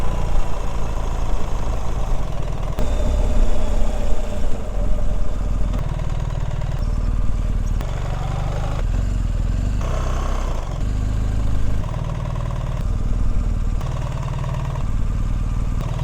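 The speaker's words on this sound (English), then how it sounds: "So noise in the helmet and engine noise with the visor up." BMW GS motorcycle engine heard from inside a helmet with the visor up, a loud, steady, low rumbling drone with wind rush and small shifts in pitch as the rider moves, no talking.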